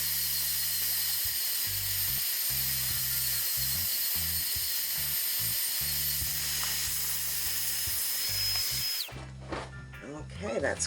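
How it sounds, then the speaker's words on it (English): A Dremel rotary tool sands the edge of a resin marble-effect dump tray, a steady high whine running close and loud for about nine seconds before cutting off into quieter handling noise. "We need to sand this edge right here. So let's quickly get my Dremel."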